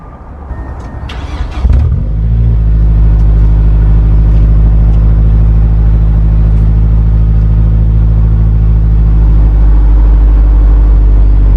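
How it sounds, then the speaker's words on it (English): A car with an SR20 engine cold-starting on a freezing day: a short cranking burst, then the engine catches into a loud, steady, close idle that drones on unchanged. "And I haven't started the car in hours, so this will be another cold start."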